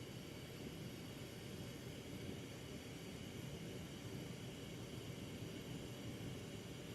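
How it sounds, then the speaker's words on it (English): A large glassblowing torch flame roars as a steady, unbroken broadband rush while glass is worked into a tulip form, with no talking in the stretch. "We should call this flame the afterburner."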